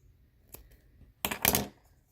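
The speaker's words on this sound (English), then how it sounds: "Then you're going to go ahead and you're going to cut this string." Scissors snip through crochet yarn, a faint click followed by a short, louder crisp cut close by in an otherwise quiet room.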